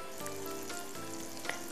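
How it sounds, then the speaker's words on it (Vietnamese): Tofu sizzles and crackles steadily while frying in hot oil, a dense continuous hiss broken by a few sharper pops, close up with no talking. "Các bạn lăn đậu hũ và chúng ta sẽ chiên."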